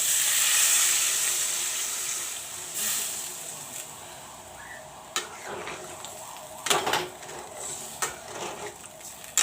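Water poured into a pan of parval and potato curry cooking with tomatoes and salt, a steady broadband rush and sizzle at the start that settles into softer bubbling, with a few clinks and scrapes of a spoon against the pan.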